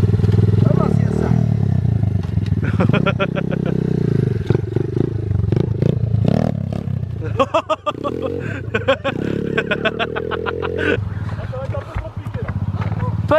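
A motocross motorcycle engine sputters, catches and revs in uneven bursts, close and loud, with excited French voices talking and shouting over it.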